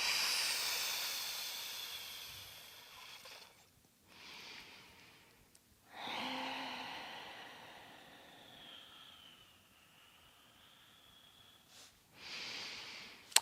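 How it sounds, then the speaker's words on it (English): Slow, deep breaths during a yoga session, each long airy inhale or exhale rushing close to the microphone, with short pauses between about four breath cycles. "Deep breaths."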